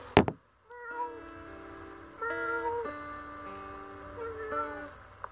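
A person imitates a cat with drawn-out, nasal meowing tones that bend and waver, preceded by a sharp click, loud and close.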